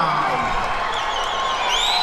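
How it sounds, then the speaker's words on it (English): A boxing arena crowd cheers for the hometown boxer during a tenth and final round, a dense, loud wash of voices and whoops that holds steady throughout. "And the crowd enjoying the action here, especially for the hometown boy."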